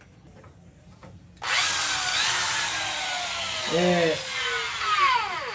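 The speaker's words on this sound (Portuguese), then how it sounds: "essa daqui é uma parafusão, é uma furadeira." A cordless drill starts abruptly after a quiet moment and runs steadily and close, its high whine shifting pitch as it works, with a brief word spoken before it kicks in.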